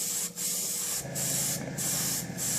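Airbrush lightly misting paint onto a Tamiya 1/35 scale Stuart tank model from about 4 to 6 inches away, a steady close hiss in short bursts with brief pauses between passes, no talking.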